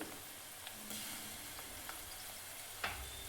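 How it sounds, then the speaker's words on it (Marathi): A spoonful of ginger, garlic and coriander paste sizzles in hot oil with fried onion, a short steady hiss with a few light stirring taps, close and without speech. "आता मी टाकत आहे अद्रक, लसूण आणि कोथिंबीरची पेस्ट, जी 1 चम्मच टाकली।"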